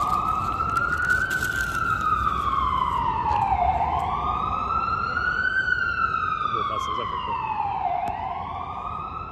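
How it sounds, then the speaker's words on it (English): Emergency vehicle sirens wail on a city street near Rockefeller Center in New York, a loud rising-and-falling electronic tone sweeping steadily over traffic rumble, with faint voices in the background. "Cue the sirens."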